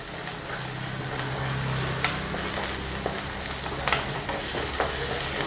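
Onions sizzle and fry steadily in a pan as crushed ginger-garlic paste and chopped green chillies are stirred in, with a constant close hiss and occasional faint scraping clicks.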